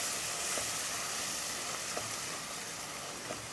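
Ghee sizzling in a pan while payasam is made with chana dal and bread, a soft, steady, continuous hiss with no voices.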